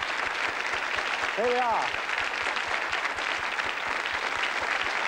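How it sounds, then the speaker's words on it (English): Studio audience applause on a 1980s TV quiz show, a steady broadband clapping wash running throughout while someone speaks briefly over it. "I think they deserve a round of applause anyway, don't you?"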